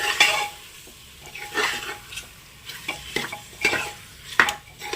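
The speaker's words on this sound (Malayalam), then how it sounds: "അപ്പോൾ നമുക്ക് ചിക്കനിലേക്ക് ഇട്ട് കൊടുക്കാം എന്നിട്ട് നന്നായിട്ടൊന്ന് മിക്സ് ചെയ്തെടുക്കാം" Chicken pieces are mixed into biryani masala in a pressure cooker, giving repeated close scraping and clattering strokes of a spoon against the metal pot in an uneven rhythm, with no talking.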